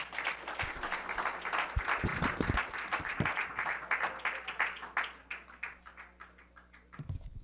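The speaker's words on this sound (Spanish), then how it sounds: "Denle un aplauso más al Señor." Congregation at a church doctrine question-and-answer gathering gives a sustained round of applause, with dense clapping and a few heavier thumps, gradually thinning toward the end.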